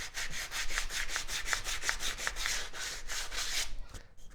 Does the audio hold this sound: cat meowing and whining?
no